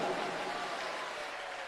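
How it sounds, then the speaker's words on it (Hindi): A large devotional gathering at a Shiv Mahapuran katha breaks into applause, a soft, uniform roar of many clapping hands that holds steady from start to finish, heard at some distance. "एक बार जोरदार ताली बजाइए"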